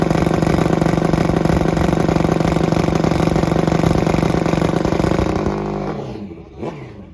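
A top fuel Harley drag motorcycle sits on the two-step at the drag strip starting line, a loud, steady, rattling idle that holds for several seconds, then fades and dies away near the end.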